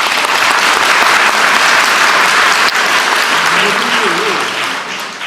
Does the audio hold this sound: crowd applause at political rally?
yes